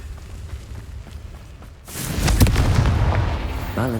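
A Confringo spell in Hogwarts Legacy goes off with a sudden loud booming blast about halfway through, its rumbling, crackling explosion lingering after a quieter lead-in.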